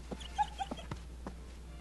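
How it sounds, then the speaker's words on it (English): A dog in Fable 3 gives a few soft, high whimpers and short whines, spaced irregularly with small pattering sounds between them, quiet and close. "Good dog."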